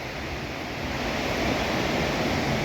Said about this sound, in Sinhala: අන්තිමේදී අපි හරි අමාරුවෙන් ආපු දියැල්ල හොයාගත්තා.